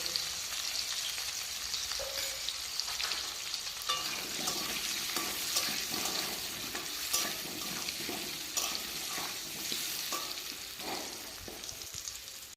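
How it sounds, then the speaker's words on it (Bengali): Potatoes coated with turmeric and chilli powder fry in hot oil with a continuous close sizzle, overlaid by frequent scraping and stirring of a spatula in the pan throughout, with no one speaking. "আলুগুলো কিন্তু ভাজা হয়ে গিয়েছে।"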